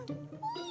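A cartoon cat gives a short, high, sliding meow, heard close up and lasting under a second.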